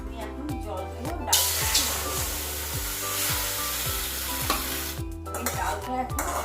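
Water poured into a pan of fried mung dal for hilsa fish head dal, erupting into loud steady sizzling and hissing with a rhythmic stirring scrape underneath.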